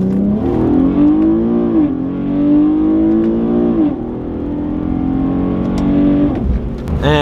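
An Infiniti G37 sedan with modifications pulls hard, its engine note climbing loud and close through repeated rising sweeps between gear changes, then easing off near the end.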